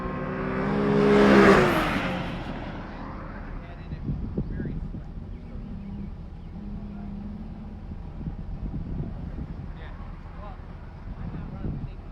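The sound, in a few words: Camry race car coming by on track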